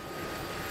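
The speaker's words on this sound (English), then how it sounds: "The Chinook's a great helicopter for PNG Assist." An Australian Army Chinook helicopter's engines give a brief, steady, whooshing roar, heard alone without voices.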